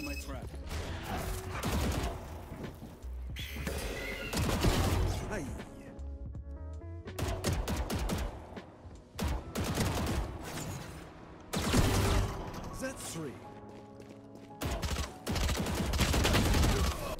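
Gunfire in a shooter video game, repeated bursts of shots and impacts in several clusters over the whole span, loud and close, with voices talking over the action.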